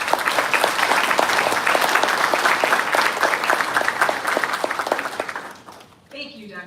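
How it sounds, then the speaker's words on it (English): A convocation audience applauds at a pharmacy graduation ceremony with sustained, dense clapping in a large hall, which tapers off before a speaker begins talking at the very end. "Please join me in giving a warm round of applause for Dr."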